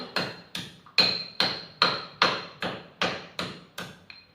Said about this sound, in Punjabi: ਆਪਾਂ ਇਹਨੂੰ ਕਿਸੇ ਚੀਜ਼ 'ਚ ਕੁੱਟ ਲਾਂਗੇ ਕੁੱਟ ਕੇ ਇਹਦਾ ਆਪਾਂ ਪਾਊਡਰ ਬਣਾ ਲਾਂਗੇ